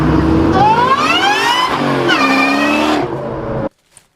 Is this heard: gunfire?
no